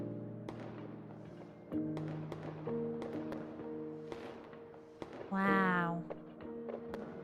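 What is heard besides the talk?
silver fireworks exploding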